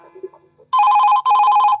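A telephone rings for a Chhattisgarhi radio phone-in song request programme: two loud, close electronic ring bursts follow a brief faint tail of music.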